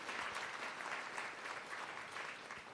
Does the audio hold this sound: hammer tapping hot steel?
no